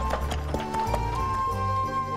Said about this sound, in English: A little clip-clop of the horse.